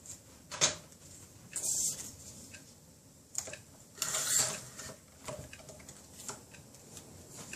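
Scissors cut a scrap of paper for card making: a few crisp, separate snips close by in a quiet room, with soft handling noise between them.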